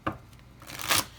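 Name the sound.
cards being shuffled for a tarot reading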